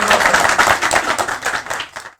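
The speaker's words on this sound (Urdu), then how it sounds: "آپ سب کی بھرپور تالیوں میں میں دعوت سخن دینے لگا ہوں تازہ کار، جدید اور منفرد شاعر جناب احمد سلیم" Audience applause welcoming a poet to the stage at a mushaira, Urdu poetry gathering: dense, steady clapping from a crowd, close and loud, running throughout before cutting off abruptly at the end.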